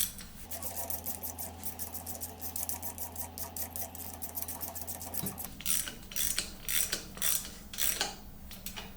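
A ratchet drives a Gripedge extractor to tighten a rounded hex fastener, giving quick runs of close, crisp clicks, first over a steady mechanical hum and then as sharper, louder ratcheting strokes with no talk.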